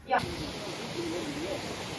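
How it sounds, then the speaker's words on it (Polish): A Norwegian salmon river rushes loudly in a continuous broadband roar, heard from above the water with no break in the flow. "ogólnie jest mega głośno, bo leci woda"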